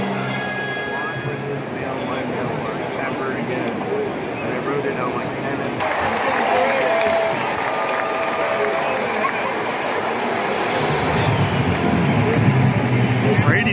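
A large stadium crowd at an opening day baseball game at Tropicana Field applauds and murmurs in a broad, continuous wash. The roar swells slightly toward the end, and a commentator talks over it throughout.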